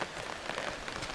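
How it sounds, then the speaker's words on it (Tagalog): Steady rain falls on a surface, a close, even hiss of drops with no pause, moderately quiet and brief. "Umuulan."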